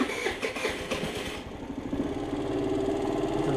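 A Lexmoto Echo motorcycle with a rusty exhaust cold-starts, a brief rough rev settling into a steady, close, pulsing idle.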